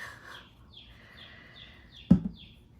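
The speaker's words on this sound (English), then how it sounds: "chicks are chirping, you guys. The chicks are really trying to get involved in our demo here." Baby chicks peep indoors near a craft table, a run of high, thin chirps that slide downward in pitch and repeat steadily, with a sharp thump from nearby handling partway through.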